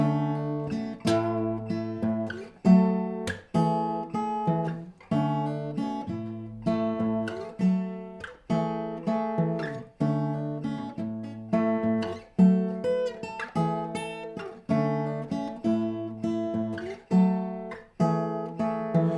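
The fingerpicked acoustic guitar riff repeats in a steady loop, plucked notes ringing out clearly and close, with no voices.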